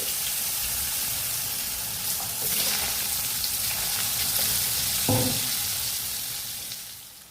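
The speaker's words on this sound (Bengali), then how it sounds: "একটু লবণ দিয়ে আলুগুলো একটু লালচে করে ভেজে নিচ্ছি" Potato pieces fry in hot oil with whole cumin, bay leaf, green chili and salt, a dense, even sizzle that hisses steadily throughout, with one brief clink of a utensil near the middle.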